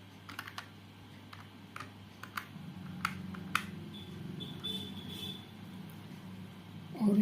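Computer keyboard keys tapped out in short irregular bursts while entering an Excel formula, quiet and close, with a steady low hum behind.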